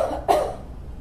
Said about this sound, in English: and then have 2 to 3 coughs